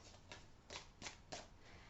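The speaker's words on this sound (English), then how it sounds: "I have to split it in half because my hands are too small to shuffle the whole pile" A deck of tarot cards split in half and riffle-shuffled by hand, several quick papery bursts at an even pace, close and soft with no talking.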